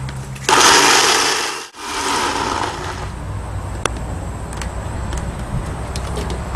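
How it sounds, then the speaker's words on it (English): A kitchen blender pureeing a green kebab marinade, a loud close whirring motor that starts abruptly, dips briefly, then keeps grinding steadily with a few small clicks. "So we're just going to give this guy a quick blend."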